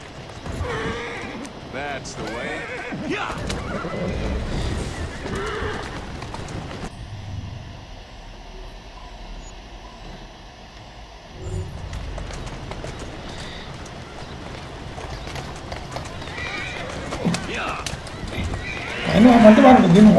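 Horse-drawn carriage in the Assassin's Creed Syndicate video game, with hooves clopping, a horse neighing and wheels rolling, mixed under a player's ongoing talk and game sounds.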